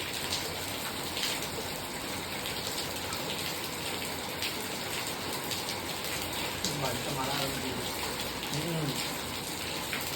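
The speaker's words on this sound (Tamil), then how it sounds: "மழை விடாது." Steady rain falls outdoors as a dense, even hiss of drops on surfaces, continuous throughout, with a faint voice murmuring briefly near the end.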